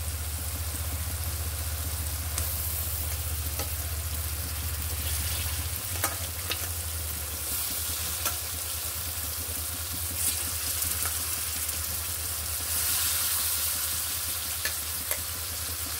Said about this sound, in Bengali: মশলাটা কষানো আমার হয়ে গেছে, তেলটা উপরে চলে আসছে। এখন আমি মাছটা দিয়ে দিব।